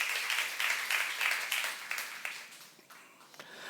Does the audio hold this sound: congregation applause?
yes